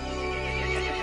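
A horse neighs in Resident Evil Village, a single drawn-out whinny heard up close and fairly loud, with no speech.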